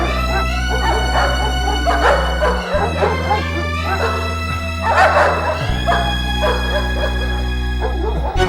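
A dog barks and yips repeatedly, mixed with whimpering, close and loud over a droning music score in a Malayalam film.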